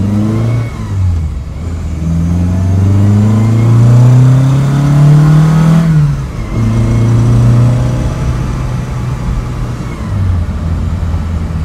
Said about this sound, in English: Let's do a brake test. I'm gonna hit the brake pretty hard.